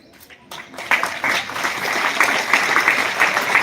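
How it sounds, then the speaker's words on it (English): Schoolchildren and staff give a round of applause for student state rankers in an Olympiad exam, with moderately loud clapping building after a brief start and continuing steadily to the end. "Let's give a huge round of applause to our state rankers."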